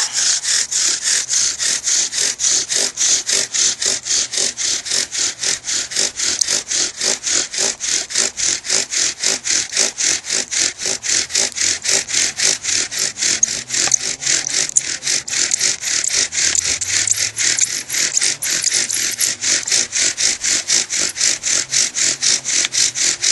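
Wooden bow drill spindle spinning on a weeping willow hearth board, a steady fast back-and-forth rasping friction that pulses rhythmically and continuously throughout, loud and close with no talk.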